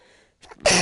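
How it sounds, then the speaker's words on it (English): A short, sharp sneeze bursts out loudly at the end after a quiet moment and a quick inhale, close to the listener. "I'm probably gonna sneeze in a minute."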